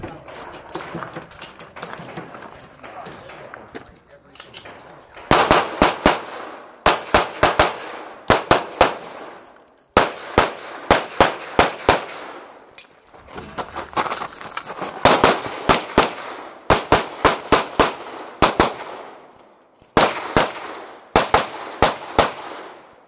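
Pistol fire on a stage at the 2019 Oregon State USPSA Championship: fast strings of sharp, loud shots in repeated groups of four to six, separated by short pauses of movement and outdoor background noise.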